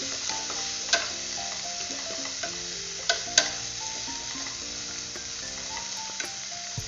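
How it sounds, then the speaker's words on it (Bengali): Turmeric is stirred into amla pickle frying in a pan, giving a continuous crackling sizzle, with sharp scrapes and clicks from the spoon at irregular intervals, close and fairly loud. "দিয়ে দিলাম হলুদ, হলুদটা ভালো করে মিশিয়ে নিচ্ছি"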